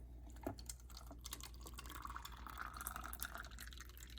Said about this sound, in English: I'm just going to fill this with hot water